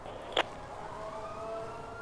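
An ambulance siren in GTA 5 wails as a rising, faint tone under a steady background hum, with a brief sharp click near the start and no speech.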